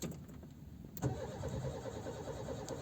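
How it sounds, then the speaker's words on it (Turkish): A 2006 Renault Clio Alize with a faulty crank sensor cranks continuously without firing, a steady mid-pitched churning whir with one sharp click partway through, close and unaccompanied by talk. "Renault Clio 2006 Alize. Boşta. Basıyorum basıyorum çalışmıyor."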